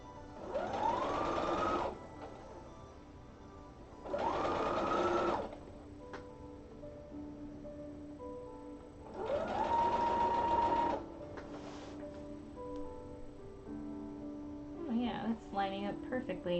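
A home sewing machine stitching fabric runs in three distinct bursts, each whirring up in pitch and then stopping, with quieter room sound and faint talk between the runs.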